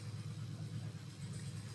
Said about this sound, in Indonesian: Mohon maaf agak berisik ada suara traktor.